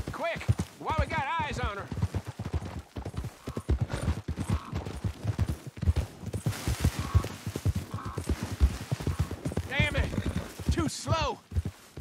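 A horse galloping in the video game Red Dead Redemption 2, rhythmic hoofbeats running steadily underneath near-constant character dialogue, with a brief snort or whinny mixed in.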